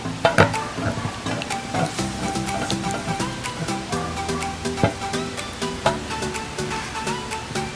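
Lavender slime made from Daiso anti-bacterial hand soap being stirred in a bowl, with steady wet squelching and clicking of the utensil against the container, close up and continuous with irregular louder scrapes.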